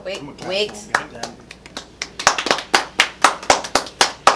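On a hip-hop interview show, a guest is welcomed as a voice talks briefly, then a close single person claps hands in a steady, evenly spaced rhythm of about a dozen sharp claps.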